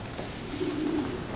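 A pigeon coos once in a low, rolling burst over steady background hiss, fairly close and alone, with no talking.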